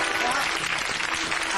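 A studio audience bursts into applause, dense steady clapping filling the room for a brief stretch.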